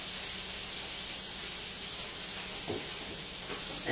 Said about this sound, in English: I put 2 tablespoons of the mix into the frying pan